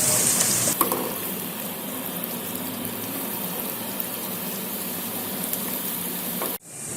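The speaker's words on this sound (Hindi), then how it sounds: "प्याज ट्रांसपेरेंट होने तक फ्राई करें" Onions frying in half a cup of hot oil in a cooking pan for desi tori sabzi, a steady broadband sizzle holding evenly for about six seconds before cutting off abruptly near the end.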